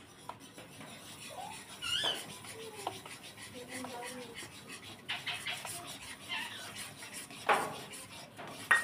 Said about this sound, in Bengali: সুজিটা দেবো আর নাড়বো।